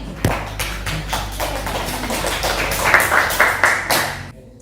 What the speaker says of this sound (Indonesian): boleh kasih tepuk tangan dulu yang berani.